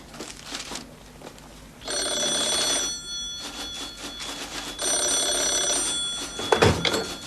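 A telephone rings in short repeated bursts in a Japanese language-lesson skit, close and loud, with a brief thunk near the end.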